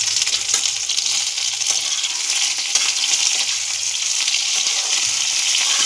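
Whole cumin seeds sizzling in hot oil in a pan with fried pointed gourd and onion, a steady bright crackling hiss close by, with faint scrapes and no voices.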